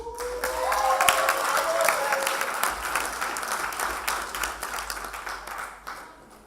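Applause and cheering from a comedy club audience, dense clapping at full strength for most of the stretch before tapering off near the end, with faint voices mixed in.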